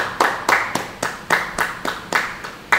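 A church congregation claps hands in unison during a Bible study, about eleven sharp, loud, evenly spaced claps in a steady rhythm.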